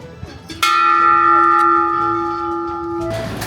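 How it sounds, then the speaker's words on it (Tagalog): A bell at a seaside attraction in Nagoya port rings with a single bright strike that sustains a clear, ringing tone for about two and a half seconds before fading, with faint background sounds around it. "Meron din dito na parang bell."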